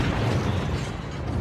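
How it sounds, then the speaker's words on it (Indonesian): A car explodes after a missile hit in a film, a loud, rumbling explosion roaring continuously with heavy low-end boom and crackling debris, filling the whole moment without any voices. "Joe menembakkan rudal yang membuat mobil Frank meledak dan menewaskannya"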